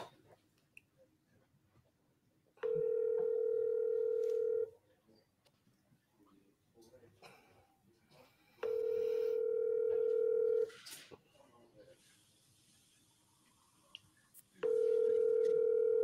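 On an outbound sales call, a telephone ringback tone plays in three steady, fairly loud bursts of about two seconds each, separated by quieter pauses with faint background noise.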